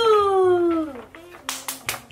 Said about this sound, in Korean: 박수쳐